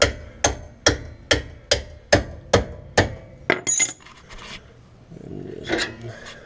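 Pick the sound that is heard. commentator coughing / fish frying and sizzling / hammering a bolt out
hammering a bolt out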